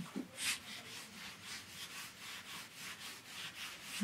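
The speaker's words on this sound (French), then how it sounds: "vous pouvez passer cette laine d'acier très très fine. Passez-la à main légère." Very fine steel wool is rubbed by hand across stained wood, giving a soft, close, rhythmic scratchy swish of about two strokes per second.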